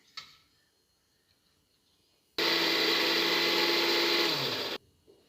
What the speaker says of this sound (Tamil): இது வந்து அரைச்சி நம்ம ஒரு பேஸ்ட் பண்ணி எடுத்துக்கலாம்